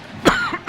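A single sharp cough bursts out close to the microphone, followed shortly by a second short cough, on a broadcast of a girls' high school basketball game.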